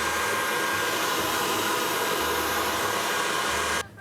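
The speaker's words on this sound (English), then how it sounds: "I'm gonna add about 1/3 of it while the mixer is running." Electric mixer whipping egg whites until foamy, a steady loud whirring drone that runs unbroken and then cuts off abruptly near the end.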